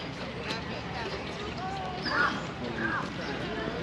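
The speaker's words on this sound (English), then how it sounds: "16 ducks." Ducks quack a few times at a park, sounding moderately distant amid outdoor ambience and people talking.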